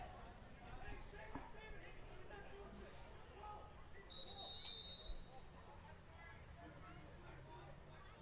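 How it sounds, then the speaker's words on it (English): A referee's whistle blows once on the far side of a varsity lacrosse game against Hill Academy, a single sustained shrill tone lasting about a second, heard over steady crowd murmur and field noise. "And an inadvertent whistle by the referee on the far side."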